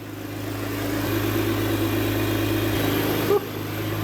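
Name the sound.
car engine idling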